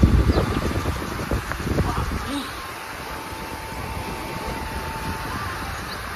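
Strong storm wind of a sudden Kalbaishakhi squall rushing past an open window, a steady broad roar that is loudest in the opening seconds and then settles into a constant gusty hiss, with no voices.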